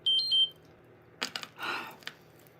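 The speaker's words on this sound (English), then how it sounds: "There's a high alarm." A high-pitched electronic alarm beeps in two quick bursts at the start, followed by sharp knocking and shuffling noises.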